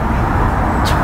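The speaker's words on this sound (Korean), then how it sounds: "도로 소음이 생각보다 적은 거예요." A continuous, loud rumble of Monday morning rush-hour road traffic from the Gangbyeon Expressway in Seoul with no breaks, and a brief higher hiss near the end.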